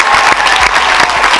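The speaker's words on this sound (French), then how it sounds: "Encore les applaudir" Award ceremony audience applauding at a prevention film festival, loud dense clapping throughout a brief burst.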